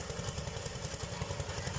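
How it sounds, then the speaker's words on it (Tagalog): A rice thresher machine running steadily during a palay harvest, a rough throbbing engine drone with a fast regular pulse, moderately close and unbroken, with no talking. "Yan po ang makina na tracer."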